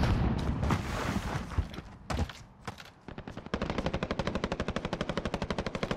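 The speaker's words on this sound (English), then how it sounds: "Getting shot at from the right." Video game gunfire: scattered loud shots, then a fast, even automatic burst of many rapid rounds, close and dominant.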